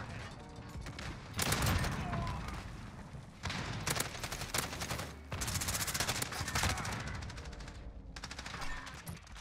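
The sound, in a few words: AK74u gunfire in a video game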